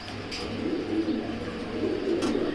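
Imported racing pigeons in a loft coo softly and continuously, low throaty murmurs overlapping close by, with a couple of brief flutters in the background.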